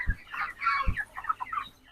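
Chickens kept on a vehicle for sale cluck and squawk up close, with two low thumps and a run of overlapping calls that fade toward the end.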